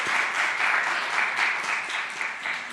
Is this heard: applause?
yes